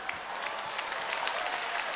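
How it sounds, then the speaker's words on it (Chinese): A studio audience at a televised singing competition claps steadily, a dense even wash of applause throughout with no clear pauses. "我们再次的掌声献给两位。"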